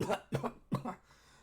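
A voice imitates a character sputtering back to life and coughing up a potion: three short, rough, close coughs in quick succession, then quiet.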